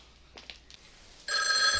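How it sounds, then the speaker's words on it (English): An old telephone bell starts ringing abruptly and loudly in the 1985 film Clue, a continuous rattling trill after a few faint thumps and movements. "Why are you receiving phone calls from J. Edgar Hoover?"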